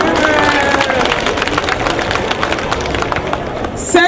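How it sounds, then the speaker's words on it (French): Crowd applause during a political speech for the RHDP party of Côte d'Ivoire, a loud, continuous patter of clapping from a large gathering, with voices mixed in. "Cela s'applaudit."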